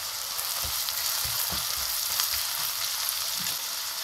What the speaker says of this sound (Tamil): வெங்காயம் நல்லா சுருங்கட்டும், வதங்கி.